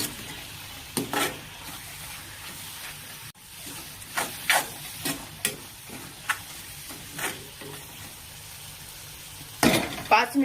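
Turmeric, red chili powder and spices sauté in oil in a pan, giving a soft, continuous sizzle with scattered scraping and utensil knocks at irregular moments.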